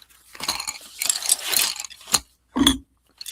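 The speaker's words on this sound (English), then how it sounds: "Now I do have to sharpen them." Colored pencils being sharpened, giving short grinding, crunching bursts with mechanical clicks, a longer run of scraping followed by separate brief rasps and a sharp final turn, close and alone.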